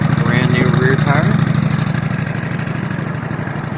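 A 2013 Honda Shadow 750 Phantom motorcycle with a 745cc V-twin engine runs steadily and loudly close by, a constant low thrum, while a person talks over it at the start.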